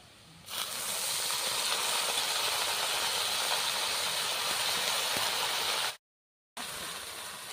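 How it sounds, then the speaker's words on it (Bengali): Jute leaves drop into hot oil with a sudden surge of loud, continuous hissing sizzle that stays strong for several seconds, broken by one brief silent gap before resuming. "ওর মধ্যে এই যে পাট শাকটা আমি ধুয়ে রেখেছিলাম বেছে, ওর মধ্যে দিয়ে দিচ্ছি"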